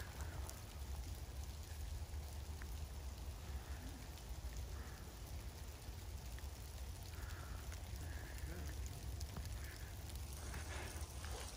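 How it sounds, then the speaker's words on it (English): Rain falls steadily through a forest canopy as a soft, continuous wash of patter, faint and even throughout with a few slightly louder drips now and then. "It's raining now, but I can't feel the raindrops through the trees."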